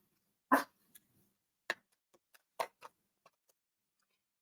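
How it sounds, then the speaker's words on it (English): Dogs bark indoors in a few short, sharp barks spread over a few seconds, one louder bark first followed by quieter, scattered ones against near silence. "And I apologize for my dogs."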